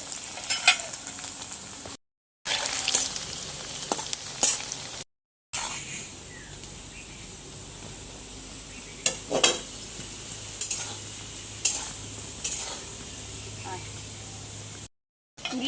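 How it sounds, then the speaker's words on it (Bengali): Raw potato and flattened rice snack frying slowly over low heat in a pan, a steady soft sizzle running throughout with occasional stirring clinks, broken by a few short silent gaps. "সেই জন্য আস্তে আস্তে আমি জাল দিয়ে ভাজছি"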